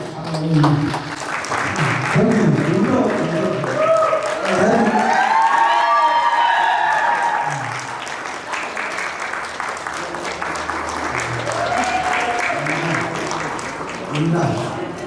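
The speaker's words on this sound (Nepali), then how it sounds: "सबले ताली लगाएको" Wedding guests at Saroj and Karishna's wedding applaud in a steady, dense wash of clapping lasting the whole stretch, mixed with crowd chatter and a few raised voices.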